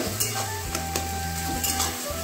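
Shrimp seasoned with salt and a little turmeric sizzles steadily in a frying pan while a utensil stirs it, with a few scraping clicks over a constant low hum and no talking.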